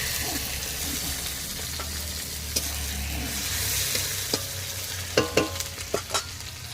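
Chopped onion, tomato and ginger frying in hot oil, a soft continuous sizzle with a few sharp clicks of a spatula stirring against the pan near the end.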